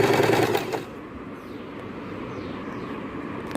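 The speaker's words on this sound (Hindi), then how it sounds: "यहाँ पर मैं एक सिंपल सिलाई स्टिच कर दूँगी इस तरह से।" A sewing machine stitches a zip onto the wrong side of fabric for a cushion cover. A fast, loud mechanical whir opens, then gives way to a lower steady hum under quiet room noise.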